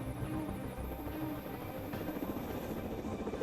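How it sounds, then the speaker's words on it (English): Presidential helicopters landing on a small concrete pier, a steady, dense rotor roar with constant thumping, held at an even loudness with no pauses. "For this presidential mission, not one, but 4 helicopters must squeeze onto the pad."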